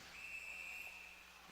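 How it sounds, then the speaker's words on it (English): Referee's whistle at a college men's ice hockey game between St. Norbert and UW-Stevens Point, one sustained shrill blast for offside sounding over faint arena ambience. "a whistle as the Knights cross in zone for offsides"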